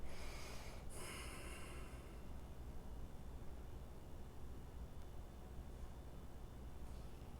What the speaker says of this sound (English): Breathing. I feel that big time.